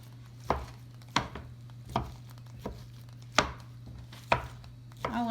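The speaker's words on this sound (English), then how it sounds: "just take those leftovers and just start chopping away" Knife chopping leftover Thanksgiving turkey on a board: seven sharp, evenly spaced chops, close and distinct, with a steady low hum underneath.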